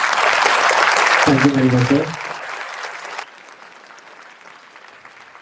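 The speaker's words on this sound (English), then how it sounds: "So this clapping says a lot." Close, loud audience clapping in a hall during a cybersecurity symposium, with a voice speaking briefly over it before the applause thins and fades to a quieter room tone.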